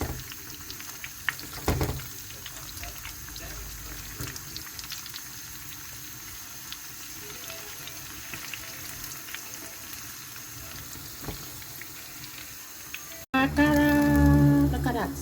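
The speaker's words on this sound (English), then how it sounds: "That's the akara fry." Akara bean fritters frying in hot oil, a continuous soft bubbling sizzle with scattered pops and clicks, closing with a louder burst of other sound after a sharp cut.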